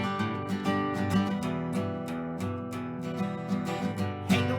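Guitar strums through the first verse of a song, a steady rhythmic chord pattern with repeated accents, played alone and fairly quiet.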